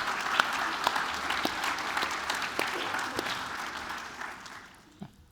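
Audience applause at a telecom industry conference talk, a broad hiss of clapping that holds steady for several seconds and then thins out toward the end.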